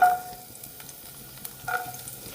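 Chopped small garlic frying in coconut oil, a faint soft sizzle with a few light clinks and stirring scrapes, quiet and close, no voices.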